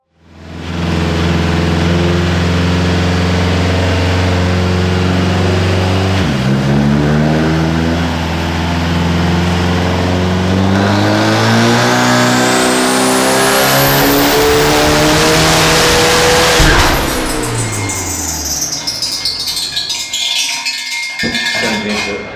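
A GSL Redneck Luv car's engine revs hard and loud, climbing through long sustained pulls with rising pitch, dipping once and surging again before cutting off near the end; no voices.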